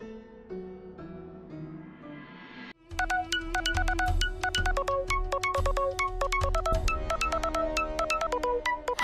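A telephone rings in a Marathi TV serial scene: after a brief quieter lead-in, a loud, rapid electronic ringtone pulses insistently and keeps repeating to the end, with no talking over it.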